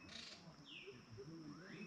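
A single rising bird call sounds in the middle distance over a steady outdoor background, with faint low murmuring underneath.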